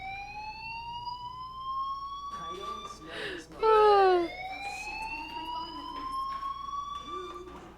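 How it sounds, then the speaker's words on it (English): A fire alarm sounds in Life is Strange Remastered, heard as steady rising electronic tones throughout, with a louder sweeping burst midway and a voice briefly speaking over it. "do you hear that fire alarm? That means you should be outside."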